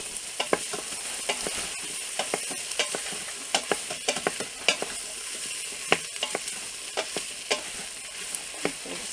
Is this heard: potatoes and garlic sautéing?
yes